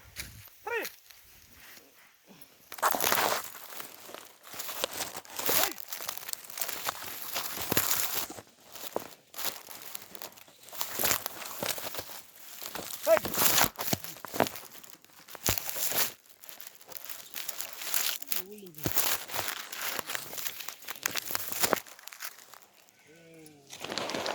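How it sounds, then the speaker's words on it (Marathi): Crinkling and tearing of a plastic bag of maize seed on a farm, with rustling and scattered crunchy handling noises, under intermittent talk. "आता पिशवी फोडून घेऊया मक्काची"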